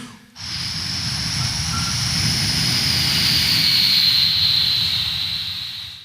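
A voice imitating the drone of an old-time propeller airplane in flight, a steady sustained engine-like hum with a whining high tone, loud and continuous after a brief start, with no other talk.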